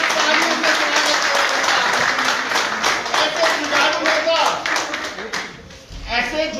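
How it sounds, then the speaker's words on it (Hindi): A crowd at a political rally applauds to welcome a Youth Congress state president onto the stage, with loud, sustained clapping close by and a voice speaking over it. "इनका जोरदार तालियों से हम स्वागत करते हैं"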